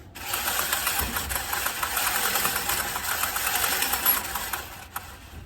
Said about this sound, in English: But I have a rolling torque wrench.